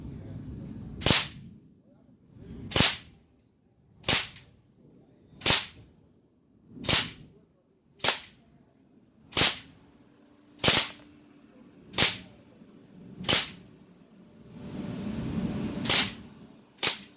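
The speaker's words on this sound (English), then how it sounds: "Alright, back 30 feet. Here we go, semi-auto." A CO2-powered mini Uzi replica fires 4.5 mm steel BBs in semi-auto, eleven sharp, evenly spaced cracks about 1.5 seconds apart, each standing out loudly against a quiet background.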